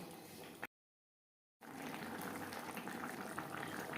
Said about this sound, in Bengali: মাছের মাথা আরও চার পাঁচ মিনিট রান্না করব